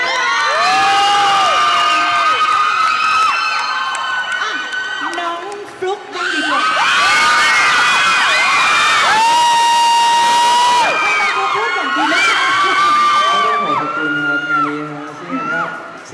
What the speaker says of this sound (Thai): ขอเสียงกรี๊ดให้กับกิ่ง